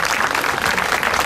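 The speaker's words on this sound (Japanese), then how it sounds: "どうぞ今一度大きな拍手をお送りください" Audience applause after a karate demonstration by Japan Karate Association clubs at an outdoor art event in front of Niigata Station, a dense steady roar of clapping throughout.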